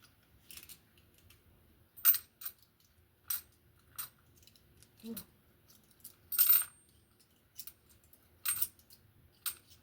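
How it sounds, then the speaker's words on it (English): Coins are dropped into a bag for a low-income savings challenge, making a series of sharp metallic clinks and jingles at irregular intervals, close and fairly quiet against a near-silent background. "You want to go ahead and put the coins in the bag as well?"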